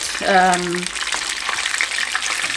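A battered fish fries in hot oil for pub-style fish and chips, a dense steady crackling sizzle close by, with a short voiced sound near the start.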